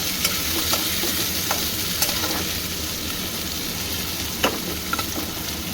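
Chopped onion sizzles and fries in very hot oil in a pan, a steady close crackling hiss with occasional stirring clicks and scrapes.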